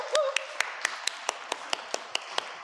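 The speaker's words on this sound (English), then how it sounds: "So let's give them a huge round of applause." A small group in a church claps for certificate recipients, a sparse and fairly faint applause with distinct, evenly spaced hand claps rather than a dense roar.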